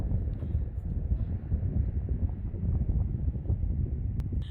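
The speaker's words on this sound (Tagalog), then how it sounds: "Sobrang mahangin na" Strong wind roars steadily across the microphone, a dense low rumble that keeps going without letting up.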